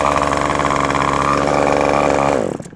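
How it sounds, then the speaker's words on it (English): An RC model glow engine, set near idle and spun by an electric starter, runs with a loud, steady buzzing drone that holds for over two seconds and then cuts off abruptly, with no voices. "Now we have our electric starter."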